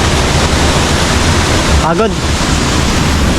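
Continuous broadband roar of Hulugan Falls in Laguna, full after rain, filling the scene up close while a voice briefly speaks over it.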